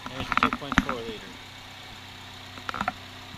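2010 Chevy Malibu with a 2.4 liter engine idling, a low steady hum heard close up with the hood open, while someone talks over it in short bursts.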